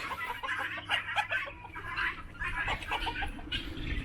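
Several chickens cluck busily and close by, their short, choppy calls overlapping in a steady chatter with no talking.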